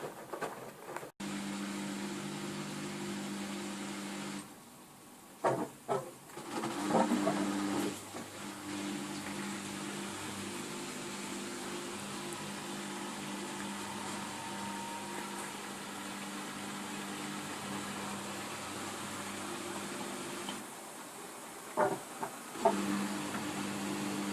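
A Samsung WW60K42106WD/UA washing machine hums steadily as its drum ramps up toward spin, the tone holding for long stretches and broken by brief clunks and pauses.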